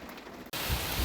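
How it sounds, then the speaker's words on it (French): Rain from a thunderstorm falls hard in inland Spain, a sudden loud steady wash of downpour starting after a quieter moment, with low rumbling underneath. "on se prend un petit orage"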